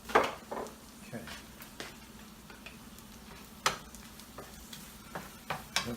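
Lobster being stirred in a pan with oyster sauce: soft sizzling underneath scattered utensil scrapes and clicks against the pan, moderately quiet and close, with a faint voice.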